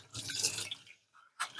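Warm water runs from a tap over a polishing pad being rinsed of tire dressing and grime, a splashing hiss that fades briefly and returns in a short burst.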